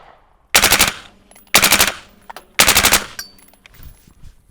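A rifle fitted with a SilencerCo Hybrid 46M suppressor fires three rapid bursts outdoors, each a loud cluster of closely spaced shots, separated by short pauses.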